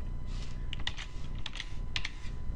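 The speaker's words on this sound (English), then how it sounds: "you want to type in the search bar," Typing into the search bar of the Windows 7 Start menu: a quick, close burst of light keyboard clicks over a steady background hiss.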